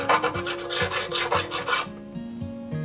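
A 150 grit fret crowning file rasps across a guitar fret in repeated back-and-forth strokes, close and steady, with a short pause near the end before filing resumes.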